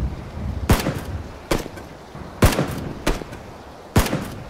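Gunfire from the video game Battlegrounds: four sharp, loud single shots spaced roughly a second apart, each with a short echoing tail over faint background game noise.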